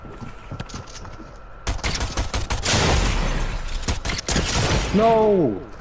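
Gunfire in a shooter video game: rapid bursts and single shots crackle sharply and loudly in uneven clusters, with a voice talking over the shooting.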